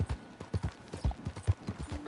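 Horse hooves clip-clop steadily at a riding pace in Red Dead Redemption 2, a brisk, even run of close, dull thuds with no voices over them.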